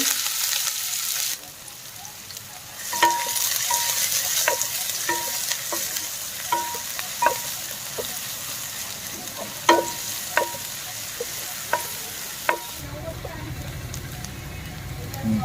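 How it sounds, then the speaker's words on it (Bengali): Chopped onions frying in oil in a hot wok for a chicken bun filling: a continuous close sizzle scattered with sharp pops and crackles, steady and fairly loud throughout. "পেঁয়াজটা ভাজা হয়ে গেছে"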